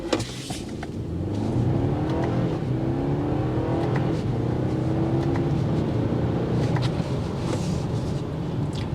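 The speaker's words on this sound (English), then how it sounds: "Now let's check that 0 to 60 for the 6 seconds BMW quotes." A 2024 BMW X3 M40i accelerates hard from a standstill to 60 mph, its engine building into a steady, loud, sustained roar with rising gear pulls, heard from inside without any talk.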